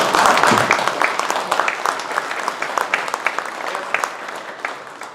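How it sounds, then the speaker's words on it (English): Audience applause in a symposium hall honoring Battle of the Bulge veterans, a dense steady clapping from a crowd that gradually thins and softens over several seconds. "And I applaud you."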